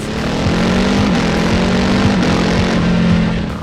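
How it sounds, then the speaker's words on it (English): A loud Ducati Hypermotard 950 RVE motorcycle engine roars steadily and close, a deep droning dual exhaust note holding throughout with slight pitch shifts, no voices. "the live orchestra with the loud dual exhaust with all the pops and bangs"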